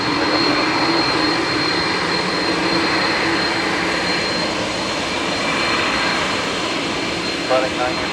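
A jet airplane takes off from runway 10 right at Dublin Airport, its broad, steady engine roar filling the air at a distance without letting up, while a voice talks faintly over it.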